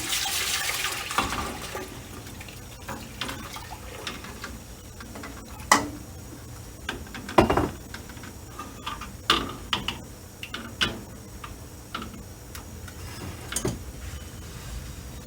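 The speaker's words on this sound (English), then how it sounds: "Pour these 2 gallons of milk into my pan." Two gallons of skimmed milk pour into a cooking pan, giving a steady trickling and splashing flow under scattered clinks and knocks, with no voices.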